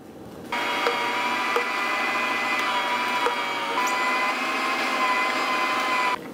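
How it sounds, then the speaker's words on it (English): A meat grinder re-grinds jalapeno cheddar sausage meat with a steady, loud mechanical whir and hum that runs without a break for about six seconds, then stops abruptly. "But we're also gonna re-grind it because I want everything really, really mixed in."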